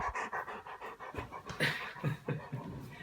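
A dog pants close by in quick, steady breaths that run through all three seconds, with no talking over it.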